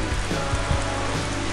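Steady rain falling outdoors beside a school bus tiny home under construction, a dense continuous patter of drops hitting nearby surfaces with a few heavier splats, loud and close, no voices.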